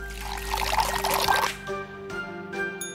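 White tea poured into a cup in a close, trickling stream lasting about a second and a half, followed by a few faint clinks and soft chime-like tones in a quiet room.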